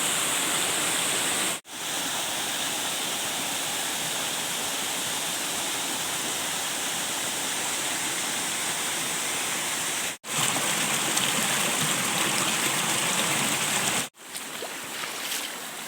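Waterfall at Khao Sip Ha Chan in Chanthaburi, a steady, loud broadband rush of falling water filling the whole stretch, broken by three brief cuts of near silence.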